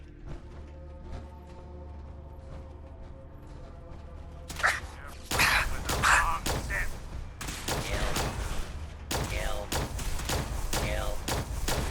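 A plasma weapon firing in the video game Fallout 4 gives a quick run of sharp, loud zapping shots that start partway through and continue in bursts, with quieter game sounds before them.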